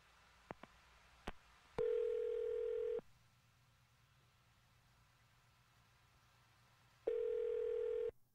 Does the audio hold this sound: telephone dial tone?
yes